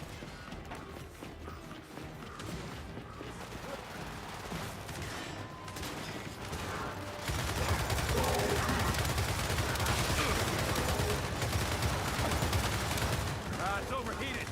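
Sustained turret fire in a video game, a dense continuous burst of gunfire that swells louder midway and keeps going, with players shouting over it.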